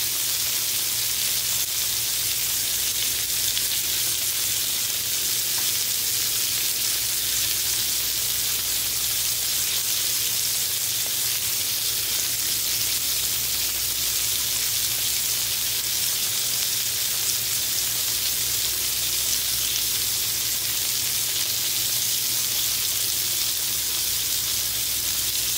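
Red onions sizzle steadily on a hot grill while bacon cheeseburgers and potato wedges cook, a dense, even hiss that stays constant and fairly loud throughout with no talking.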